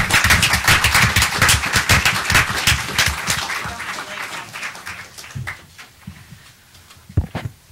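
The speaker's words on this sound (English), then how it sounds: "please give a very warm round of applause to Susan Glasser" Audience at a policy talk gives a warm round of applause, brisk close clapping that thins out over several seconds into scattered individual claps and near silence.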